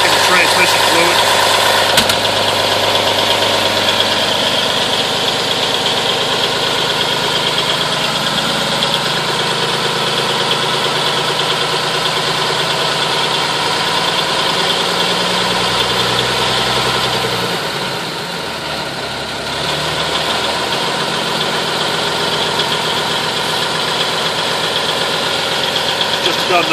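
An M931 military truck's diesel engine idles steadily after a cold start, a loud close rumble with knocking texture that dips briefly near the end before settling back.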